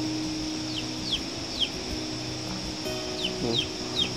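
Chickens peep and cluck outdoors at a rural Vietnamese home: brief, faint, high calls recur every half second or so over a steady hum of background noise.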